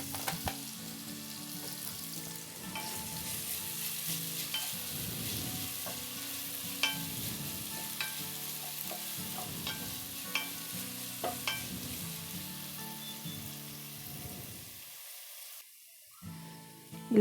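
Chopped onions salted and frying in a pan, a steady sizzle broken by repeated scraping stirs of a spoon, close and moderately loud, with no talking.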